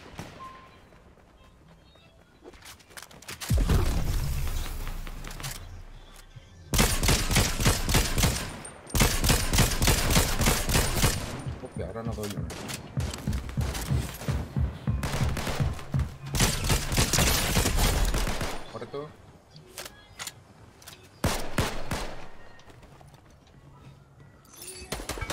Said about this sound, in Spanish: Hay tiros